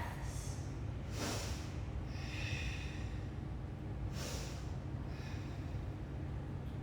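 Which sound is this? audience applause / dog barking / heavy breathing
heavy breathing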